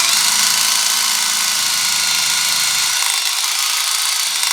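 A Milwaukee threaded rod nut runner power tool whirs loudly, spinning a nut off a threaded rod, a steady motor drone with a low hum that drops away after about three seconds.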